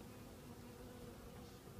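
Honeybees buzz in an open hive during a late-season hive split, a dense, steady, close hum that continues without a break and with no talk.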